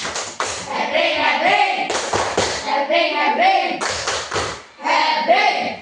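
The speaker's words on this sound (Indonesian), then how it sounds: "Tepuk tangan untuk kelompok Winda." A group claps briefly amid primary-school classroom chatter and children's voices, with scattered taps and thuds throughout.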